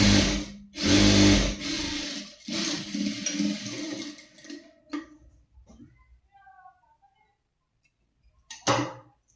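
An electric sewing machine stitching fabric in a tailoring class, a loud steady mechanical whir running for about five seconds before stopping, then a short second burst near the end.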